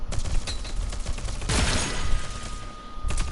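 Hip-fired weapon in Rogue Company unleashing rapid, loud bursts of automatic gunfire up close, with a sustained heavier barrage in the middle and a short burst at the end.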